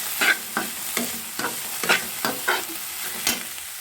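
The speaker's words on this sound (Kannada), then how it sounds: "ನುಗ್ಗೆ ಸೊಪ್ಪನ್ನು ಸೇರಿಸಿ ಚೆನ್ನಾಗಿ ಹುರ್ಕೊಳ್ಳಿ" Drumstick leaves are stirred into a pan with roasted carrot while making a chickpea usli, with a spoon scraping and tossing in a steady rhythm of about eight close, crisp strokes over a soft frying sizzle.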